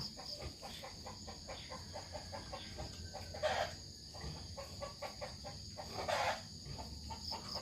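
Chickens cluck quietly in the distance over a steady insect-like hum, with a couple of louder calls standing out.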